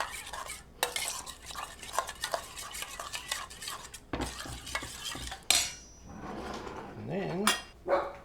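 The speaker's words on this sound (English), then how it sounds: "We're gonna mix it up." Watermelon salad seasoned with Himalayan salt and black pepper is tossed in a bowl, with close, irregular clinks, scrapes and clatter of utensils against the dish.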